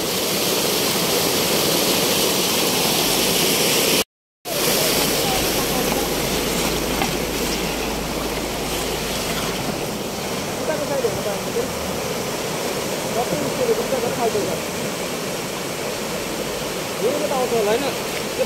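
A rushing mountain stream in the hills of Nepal roars loud and close, a dense, continuous wash of water that runs on with only a momentary break.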